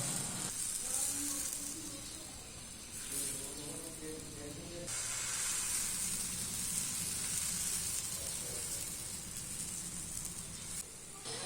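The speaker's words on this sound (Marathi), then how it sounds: "याला तेल लावून घेतलं आणि याप्रमाणे छोट्या छोट्या अशा टिक्क्या काढून घेतल्या." Small sweet corn patties fry in oil on a flat dosa pan, giving a loud, continuous hissing sizzle that swells and fades slightly and runs without a break.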